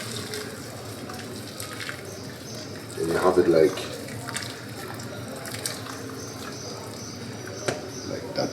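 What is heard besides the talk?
water poured over basmati rice in pot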